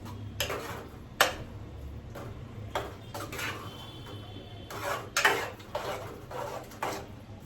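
A spoon scrapes and clinks against a pan while a vegetable bhaji curry is mixed, giving irregular knocks and scraping bursts with quiet gaps between them.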